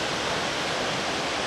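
A waterfall at a resort, a steady broadband rush of falling water filling the sound evenly with no breaks, close and fairly soft.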